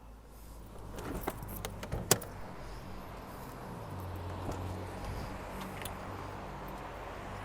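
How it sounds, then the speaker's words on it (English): Keys for a 2018 Toyota Corolla LE jangle in a few brief, bright metallic rattles near the start, followed by faint interior handling noise in a quiet car. "It does have 2 keys that come with it."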